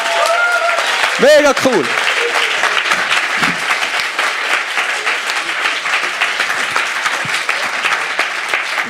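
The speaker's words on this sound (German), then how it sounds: "einen riesen Applaus!" A science slam audience in Freiburg gives the winner a long, steady wave of applause, dense clapping filling the room while a voice briefly cheers near the start.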